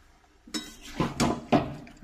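Potatoes tipped into a pan already cooking pumpkin and prawns, giving a few close clattering thumps and scrapes against the metal with a faint wet sizzle between them, no talking.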